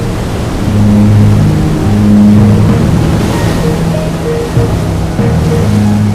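A swollen, swift river roars in a loud, unbroken wash of rushing water, with steady churning turbulence throughout and no voices.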